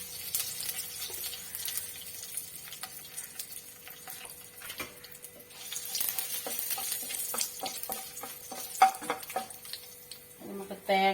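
Red chillies and curry leaves fry in oil for spinach thoran, giving a steady soft sizzle with scattered crackles and pops. Faint clicks run through it, and a sharper burst comes near the end.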